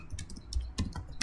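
Brief burst of quick keystrokes on a computer keyboard while a print command is entered, close and moderately loud with uneven clicks and no speech.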